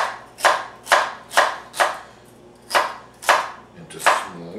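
A knife chops a stalk of celery, halved lengthwise, into small pieces on a board, sounding as seven crisp, evenly spaced thunks close to the listener, with no one talking.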